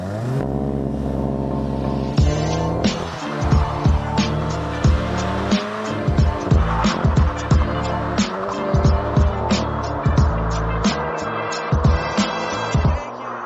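Ford Ranger XLT pickup, a 2026 model, launching hard from a standstill and accelerating, its engine climbing through repeated rising gear pulls with loud, close revving throughout and brief dips between shifts.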